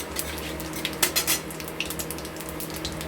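Chopped onions hit hot oil with whole spices in a pan, giving a bright sizzle and hiss with clinks of a utensil against metal, close and fairly loud, with no talking.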